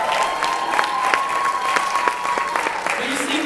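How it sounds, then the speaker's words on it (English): Church audience clapping for an Easter performance, a steady patter of many hands with crowd noise underneath and a voice speaking over it. "So let's give it up for Jesus"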